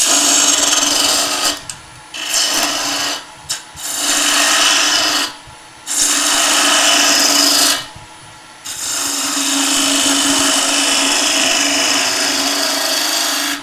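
A wood lathe gouge cuts a deep cove into a wooden table lamp in several loud, rasping passes separated by short pauses.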